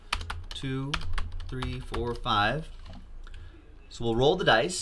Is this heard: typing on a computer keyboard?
yes